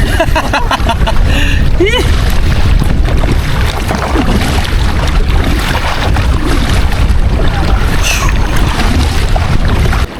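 Strong wind roars steadily over an open sea off Cebu, with rushing, splashing water, strong current and kayak noise filling the whole stretch. There is no clear talking.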